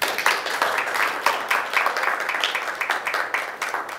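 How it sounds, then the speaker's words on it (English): At a water-research talk, a room of listeners gives steady, moderately loud applause to welcome a speaker, with individual claps audible throughout. "please give him a hand of applause."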